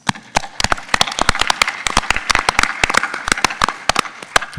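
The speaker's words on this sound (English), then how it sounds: "I'd like to give them all a round of applause," Audience applause and clapping for Dr. Stevens and his team at a beauty panel discussion, dense and steady across the whole stretch with sharp individual claps standing out, fairly close, no voices.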